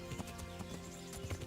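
Quick rhythmic clip-clop of a horse's hooves galloping in the medieval video game Kingdom Come: Deliverance, close and steady over faint in-game ambience, no speech.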